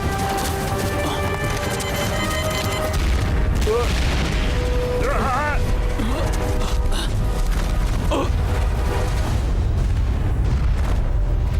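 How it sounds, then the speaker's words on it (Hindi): A loud, sustained roar of explosions blowing up a place in a Hollywood adventure action movie, dense rumbling debris with swooping effects layered over it, continuous and heavy throughout. "चलो, उड़ा दो इस जगह को।"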